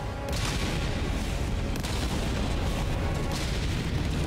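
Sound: 380mm orbital barrage artillery in video game Helldivers 2

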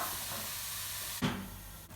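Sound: lamb meat sautéing in a hot pan

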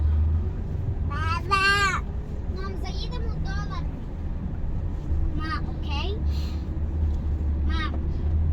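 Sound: car driving through the city

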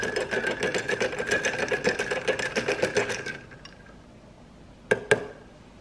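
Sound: stirring a White Russian cocktail

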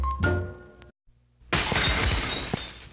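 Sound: glass shattering sound effect in a radio ad

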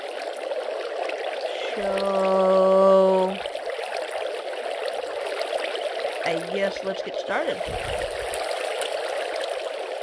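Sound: flowing water in a Minecraft-style video game

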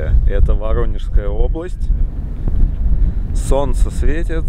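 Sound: wind blowing

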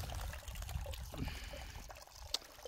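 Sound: mountain stream water trickling over stones

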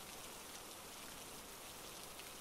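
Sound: rain falling

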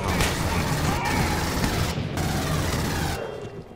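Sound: gunfire in Aliens Colonial Marines video game

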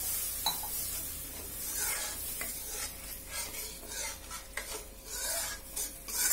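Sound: curry boiling in a pan

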